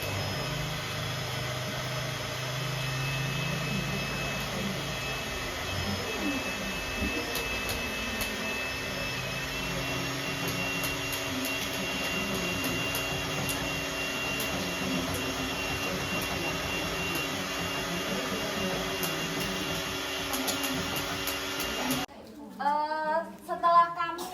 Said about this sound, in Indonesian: mixer.